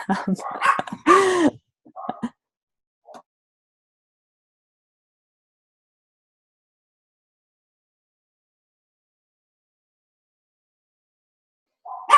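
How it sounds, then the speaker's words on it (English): A dog barks in a few loud, close, rough bursts with yips right at the start, then long silence before one brief sound at the very end. "as soon as I unmute, she starts barking, but when I mute, she barks"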